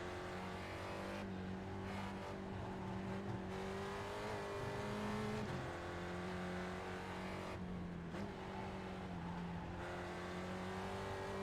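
Spec Racer Ford race car in iRacing at Oran Park, its engine droning steadily at high revs with repeated pitch drops from gear shifts and braking, heard alone without talk.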